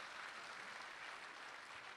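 An audience at a live Punjab Day debate in Ludhiana applauds in steady, continuous clapping that sounds distant and fairly faint.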